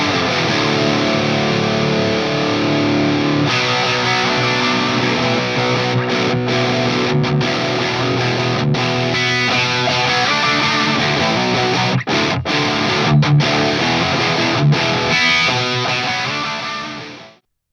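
Distorted electric guitar played through a rock crunch amplifier, loud and continuous with sustained chords and riffs, a few brief gaps between phrases and a fade at the end.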